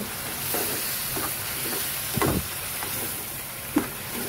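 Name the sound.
grated masala being sautéed in oil in a pan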